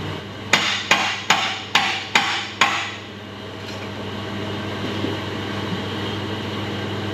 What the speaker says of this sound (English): I'm gonna need to persuade it a little bit with a hammer.